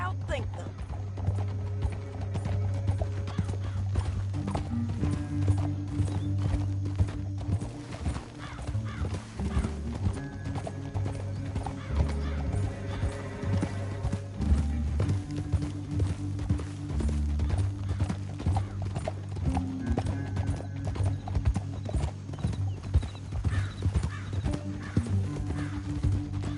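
Galloping horse hooves in the video game Red Dead Redemption 2, a steady rhythmic clip-clop that runs throughout alongside a soundtrack, with characters talking over it.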